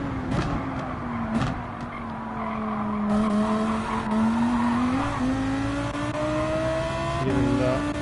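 Nissan GTR GT3 race car lapping Dragon Trail Seaside in Gran Turismo 7, its engine droning steadily close up as tires squeal and skid through a long corner, pitch rising gradually as it accelerates out.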